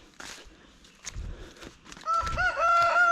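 Chickens on a farm, with scattered clucks and scuffling early, then a loud, sustained fowl call near the end, close to the listener.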